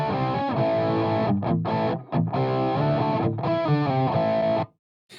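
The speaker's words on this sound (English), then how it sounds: "So here's the sound of the delay plugin just on its own." Guitar delay plugin heard alone on a cabinet track, low-pass filtered for darkness: loud, thick distorted guitar chords with quick, smeared repeats, short gaps between strums, then cutting to silence near the end.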